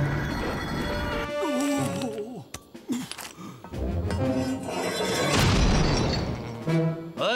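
An artillery shell strikes in a Lucky Luke cartoon scene with the Daltons: loud booming, crashing and shattering clatter that runs continuously over several seconds, mixed with musical and whistling effects.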